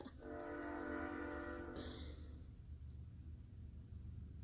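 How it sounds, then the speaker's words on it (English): A train passes near a house. A sustained horn blast sounds for about two seconds and then cuts off, leaving the low rumble of rolling railcars continuing steadily at a moderate distance. "Excuse the train. Y'all live near a train."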